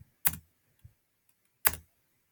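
Two crisp, close keystrokes on a computer keyboard entering an answer to a precalculus problem, separated by a short pause, with faint small clicks between them in an otherwise quiet room.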